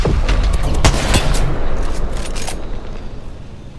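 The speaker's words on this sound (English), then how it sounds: "He trying to shoot at us." Gunshots in Apex Legends crack out in several sharp reports over the first couple of seconds, loud and close, then fade into a rumbling tail with no speech.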